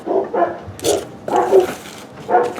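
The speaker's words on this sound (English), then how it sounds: "And my dogs are going crazy." Several dogs bark in a quick, excited string of loud, close woofs with brief pauses between bursts, and one lets out a whine.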